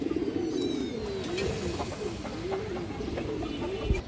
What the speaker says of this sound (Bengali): এই দেখেন একটা মাদি কবুতর, মাশাআল্লাহ খুব সুন্দর কবুতর